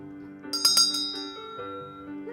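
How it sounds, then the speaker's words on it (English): An old school or ferry bell at a museum is struck a few times in quick succession, bright ringing tones that then hang and decay slowly into a sustained hum. "Who wants to ring the bell?"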